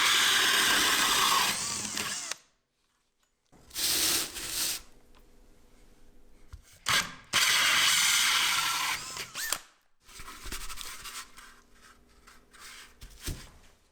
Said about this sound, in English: Using a good quality hole saw, I drill out what's left on the speaker holes.